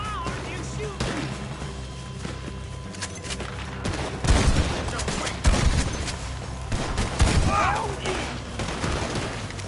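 Gunfire in a Red Dead Redemption 2 shootout, several sharp bursts and overlapping shots punctuating a busy mix, with voices talking between the volleys.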